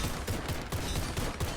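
A Walther PPQ pistol fires in the shooter game Warface, with about six sharp shots at a quick, even pace, each punchy and close.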